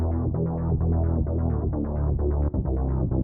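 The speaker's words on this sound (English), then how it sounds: "another secondary bass that's a little more rhythmic" Rhythmic secondary synth bass line in a sad pop production, pulsing steadily with repeated short notes that layer over a sustained low bass, loud and continuous with no voices.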